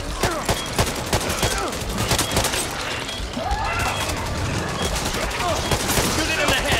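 Rapid gunfire in the zombie shooter Back 4 Blood, dense bursts of shots crackling in quick succession at close range, with a voice shouting over the fighting.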